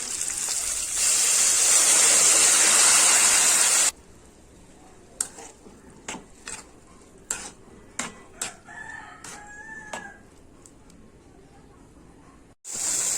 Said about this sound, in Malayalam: ഇനി ഇതിലേക്ക് കുറച്ച് വെള്ളം ഒഴിച്ചു കൊടുക്കാം